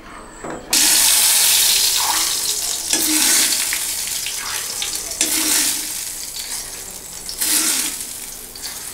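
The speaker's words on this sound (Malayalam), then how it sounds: "നമുക്കിതിന് കടുക് താളിച്ചിടാം" Mustard seeds tempered in hot oil for a Kerala chicken stew, heard as a loud, sudden crackling sizzle that starts abruptly and keeps hissing and popping in waves throughout, close and without talk.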